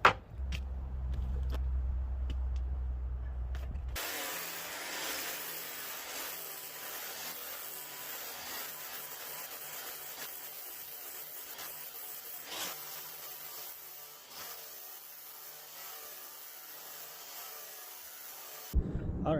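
A polishing wheel grinding against stainless steel clamped at one end, a steady harsh rubbing hiss held at an even level for about fifteen seconds, close up, starting and stopping abruptly.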